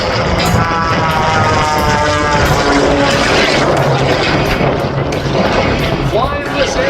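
A propeller aerobatic airplane performing at the North Little Rock air show in October 2022: a loud, continuous droning engine roar with shifting pitch, which sweeps noticeably as the plane passes by near the end.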